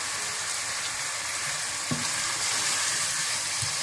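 Chicken pieces fry in a pan with turmeric, salt and kewra water mixed in, giving a dense, loud, continuous sizzle with a brief stirring knock near the middle.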